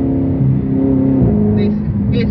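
Dodge Charger 392 Scat Pack V8 revving as the pedal is tapped, a loud, steady low engine drone that shifts pitch partway through, heard up close.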